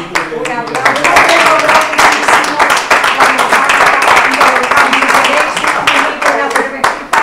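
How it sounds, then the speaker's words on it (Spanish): Sustained applause and clapping from a Spanish autumn conference audience, dense and steady for several seconds with crowd noise mixed in, fairly loud and close. "No, un aplauso."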